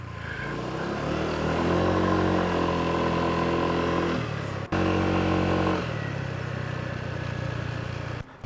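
A motorcycle engine hums steadily at close range while riding in Vietnam, its pitch rising and falling with a brief cut in the middle, continuous throughout.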